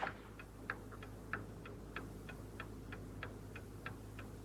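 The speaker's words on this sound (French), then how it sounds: "Danny, il me semble entendre quelque chose, un tic-tac" A clock ticks steadily and evenly, about three beats per second, faint and alone in a quiet room.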